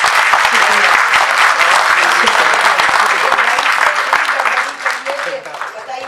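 Audience applause fills a ghazal gathering for a poet from Jalandhar, Punjab: dense, steady clapping from a crowd close by, holding strong for several seconds before thinning slightly near the end.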